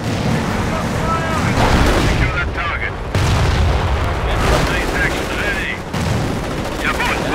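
Rocket barrage mixed with gunfire in the Company of Heroes game, Romania mod: loud, continuous rumbling explosions and crackling shots, with brief voice lines heard over the battle.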